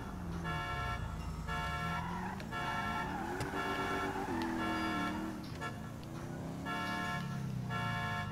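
Police sirens wail and yelp in the video game Grand Theft Auto V, rising and falling in repeated cycles over a revving car engine. The sound is fairly faint and continuous.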